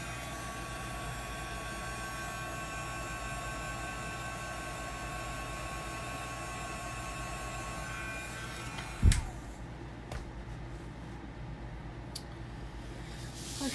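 A hair dryer blows a steady, loud broadband roar over a chalk transfer for about nine seconds, then cuts off into quieter handling noises and a few faint clicks.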